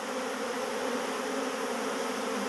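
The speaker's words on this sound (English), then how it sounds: "Now I got every bee out of the tree." Honey bees from a swarm just removed from a tree fill the air with a dense, continuous buzzing hum, loud and close, steady throughout with no talk.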